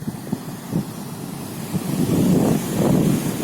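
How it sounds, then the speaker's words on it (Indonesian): Ocean waves wash along a beach shoreline, low rumbling surges swelling louder in the second half, mixed with gusty wind buffeting the microphone. "Ombak."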